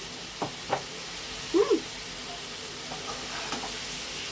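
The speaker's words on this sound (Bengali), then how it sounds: "এবার এটাকে চিনিটার সাথেও একটু নাড়াচাড়া করছে" Spice masala with sugar is stirred in a frying pan, giving a soft steady sizzle broken by a few light scraping taps from the spatula, close by with no talk.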